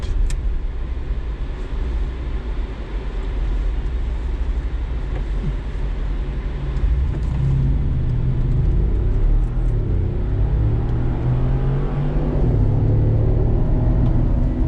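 A heavy engine roars steadily from inside a 6,700-pound Mercedes G-Wagon 4x4 Squared, its rumbling note rising as it accelerates from 0 to 60, with constant road noise throughout.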